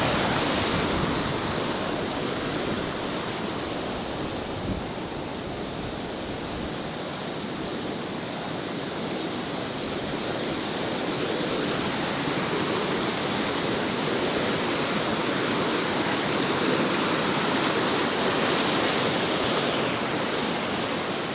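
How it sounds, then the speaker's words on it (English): Birch Creek in the Sierra Nevada rushing steadily, a broad unbroken roar of flowing water, close and loud for the whole stretch with no voices. "This is Birch Creek. It's the biggest so far."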